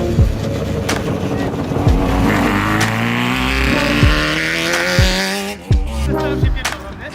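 A van swapped with a motorbike engine and carburetors runs too rich, giving a loud, close engine drone with repeated rev surges and sharp pops throughout, with a little talk underneath.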